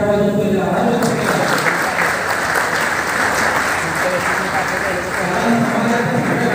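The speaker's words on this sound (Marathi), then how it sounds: "माझे सर्व प्रशिक्षकांनी विनंती आहे की प्रशासनाच्या वतीने तुम्ही त्यांचं जोरदार टाळ्या वाजवून पहिले आभार व्यक्त करा" Audience applauding steadily and loudly for teachers at a school education-office felicitation event, dense continuous clapping filling the whole stretch with a brief dip near the end.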